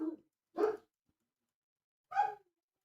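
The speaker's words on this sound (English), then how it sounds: "Why is she barking?" Two separate barks from a dog, a short one near the start and another about a second and a half later, each clear and fairly close, with quiet in between.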